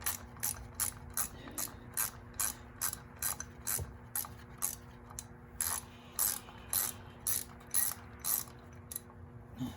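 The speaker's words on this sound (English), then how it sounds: "Put the wrench back on it." A hand wrench ratchets on a bolt during a water pump job on a BMW E46, giving a steady series of crisp, close clicking bursts in a regular rhythm with short pauses.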